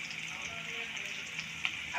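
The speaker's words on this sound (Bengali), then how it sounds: "আমাদের ডিম ভাজা হয়ে গেছে," Eggs frying in oil in a pan, a steady close sizzle throughout with a small clink near the end, no voices.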